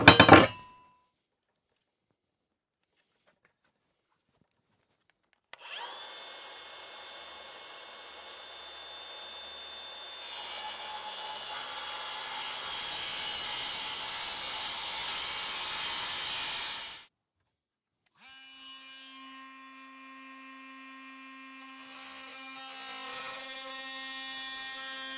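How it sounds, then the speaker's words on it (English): Power tool cutting notches into plywood rails for a collapsible cutting platform: after a sharp click and silence, a loud, steady whining buzz runs for about eleven seconds, stops, then a quieter humming tool sound follows. "and we'll get these notches cut."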